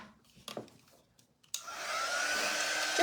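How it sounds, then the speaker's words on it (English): A hair dryer switches on and blows steadily, drying a sticky craft transfer on its backer, with a few soft handling clicks just before it starts. "Now I'm going to go ahead and dry this up a little bit."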